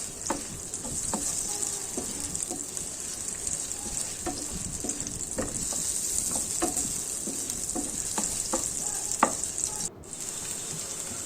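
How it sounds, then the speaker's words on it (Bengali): Chopped onion fries in oil in a pan for a fish curry, giving a steady close sizzle with a spatula scraping and tapping against the pan in an irregular rhythm throughout. "ভালো করে নেড়ে চেড়ে দিব যাতে করে পেঁয়াজটা নরম হয়ে আসে।"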